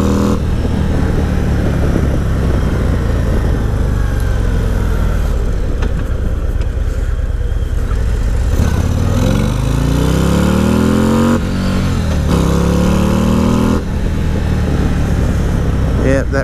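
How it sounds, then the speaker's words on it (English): Harley-Davidson Road Glide ST motorcycle engine on a first ride, a loud continuous roar with rising revs that bounce off the rev limiter, heavy wind rush throughout and a rider talking over it. "Yeah, that rev limiter will get you."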